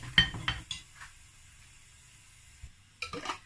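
Utensil clinks and scrapes against a bowl while stir-fry vegetables are mixed together, a quick cluster of taps, then a quiet pause and a final burst of clatter, close and moderately loud.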